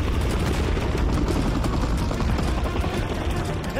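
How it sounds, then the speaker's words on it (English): Call of Duty Modern Warfare 3 combat on PS5, with an enemy helicopter overhead inside a dense, loud wall of gunfire, explosions and rotor rumble that runs steadily through the whole stretch. "Enemy helo is overhead!"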